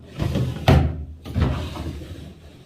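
A bathroom drawer slides open with a quick rolling scrape and a sharp knock as it stops, then a second softer slide, close and alone.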